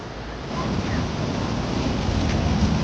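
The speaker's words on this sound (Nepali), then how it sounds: "अब उसका जोले साउंड ना खतरनाक से पानी को साउंड" Steady, loud roar of rushing water at the Teesta barrage, a continuous broadband wash with no pauses, close by and with no voices.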